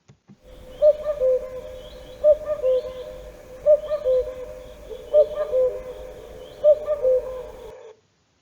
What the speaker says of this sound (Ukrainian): Давайте послухаємо, як кує зозуля, і порахуємо, скільки раз вона сказала куку.